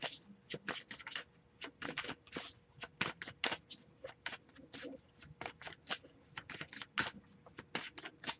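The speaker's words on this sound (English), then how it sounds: "I'll get a few more shuffles before we move on" Quiet, rapid flicks and soft taps of cards being shuffled, a busy clicking patter that continues steadily throughout.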